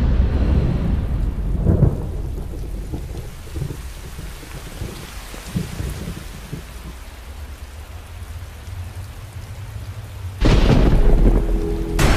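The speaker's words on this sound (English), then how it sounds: "There's a storm coming." A thunderstorm rumbles with heavy rain falling steadily on surfaces, a deep thunder roll near the start, and a sudden loud crack of thunder close by near the end.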